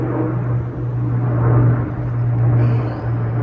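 A steady roar of a NATO military airplane flying overhead, with a low droning hum, a continuous rumble that swells slightly and holds throughout.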